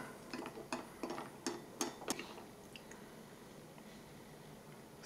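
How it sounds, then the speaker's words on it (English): Spoon stirring packet soup from a Spanish army combat ration, a series of soft wet squishes and clinks in an uneven rhythm, quiet and close, fading out after a few seconds. "Give it a stir up."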